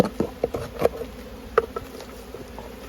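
Honey bees buzz around an open hive during pollen flow, with several distinct close passes of individual bees flying by the microphone over a quiet background, each drone rising and fading in turn.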